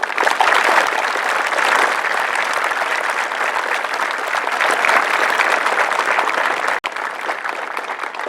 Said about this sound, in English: I ask that you join me in a round of applause